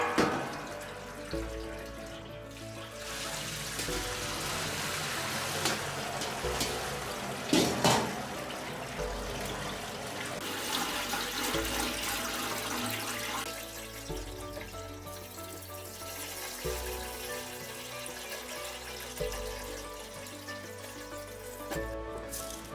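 Water runs and splashes steadily for a long stretch, with occasional clinks, as washed lamb liver drains through a strainer into a sink.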